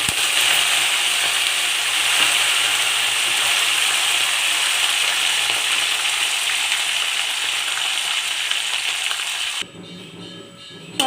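Dried red chillies and curry leaves frying in hot oil for a taro and potato dish, a steady loud sizzle and crackle running continuously before cutting off abruptly near the end.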